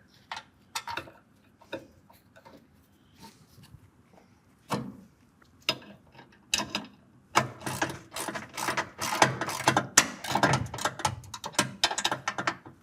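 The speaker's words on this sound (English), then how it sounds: "go through the side and tighten it down with a 13mm" A ratchet with a 13mm socket tightens a short M8 bolt while a RealTruck AMP Research BedStep2 is installed on a 2023 Ford F-250 SuperCrew. Sparse clicks come first, then dense, rapid ratcheting bursts close by, with no talking.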